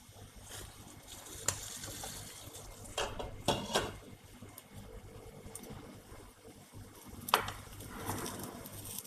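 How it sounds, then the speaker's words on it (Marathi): A lid comes off a cooking pan while suji chilla cooks, giving a few sharp metallic clinks and clatters, close and intermittent, over a faint, steady kitchen background. "आपण आता हे झाकण काढूया."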